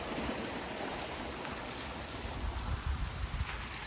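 Water from a farm well pump falls and flows on into an irrigation channel in a Gujarat village field, making a continuous rushing wash with wind buffeting the microphone.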